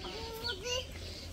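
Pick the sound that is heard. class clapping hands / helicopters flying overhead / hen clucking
hen clucking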